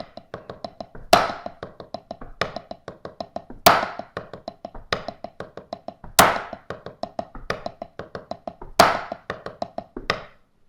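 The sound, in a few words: drum groove on hi-hat, snare backbeat and bass drum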